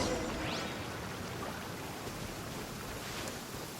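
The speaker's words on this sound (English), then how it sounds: "The rain won't slow me down." Steady broadband rain hiss fills the scene in the video game Genshin Impact, a constant close wash of falling rain with no talk over it.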